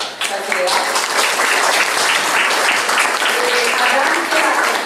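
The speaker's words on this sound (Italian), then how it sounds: "io farei un applauso al Venturini che è qui in mostra sicuramente" An audience at an art exhibition opening claps in sustained, dense applause for about five seconds, loud and close, with voices mixed in.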